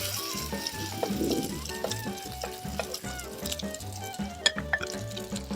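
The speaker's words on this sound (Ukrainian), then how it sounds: "О, як шкварчать." Odesa-style patties made from sprat fish sizzle in a frying pan, a continuous crackling fry with small pops at moderate volume beneath a steady rhythmic background.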